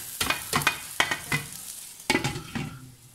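Hot oil crackles and sizzles while mutton biryani is smoked over coal, with sharp clattering stirring knocks that come in uneven bursts, up close and moderately quiet.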